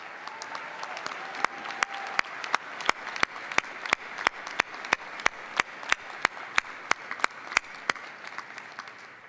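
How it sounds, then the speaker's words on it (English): A large commencement audience at UW-Parkside applauds in a sustained, dense roar of clapping, with sharp rhythmic claps standing out regularly near the front over the steady wash for nine seconds. "Another round of applause for Laurel."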